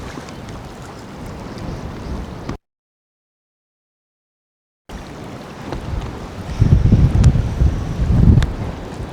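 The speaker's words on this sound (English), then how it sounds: "That wind is picking up." Wind blowing across a fishing boat in windy conditions, a rough buffeting roar on the microphone with gusts that build louder, broken by a brief total silence in the middle.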